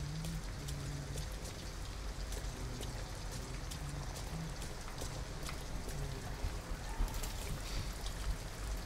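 Steady rainfall in the Detroit: Become Human video game, a dense continuous patter of drops striking surfaces with scattered nearer splashes, no voices.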